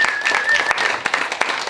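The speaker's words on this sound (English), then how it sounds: "Let's give Coach Les a big round of applause" Audience applause for Coach Les at an AGC Minneapolis talk, a short burst of dense clapping with a voice briefly heard over it.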